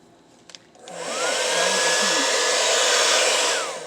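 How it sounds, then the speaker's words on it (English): A couple of soft clicks, then a regular hair dryer on cool air whirs up to a loud, steady rushing blow that holds and starts to fade at the end. "I just take a regular hair dryer"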